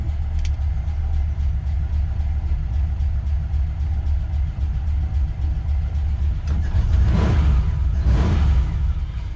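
A 1953 Mercury Monterey engine running: a steady low rumble at close range throughout, with a couple of brief whooshing swells near the end.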